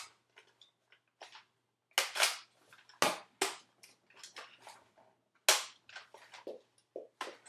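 A Nerf Rival Apollo XV-700 blaster fires in a string of sharp snapping shots with mechanical clicks between, close and crisp against a quiet room.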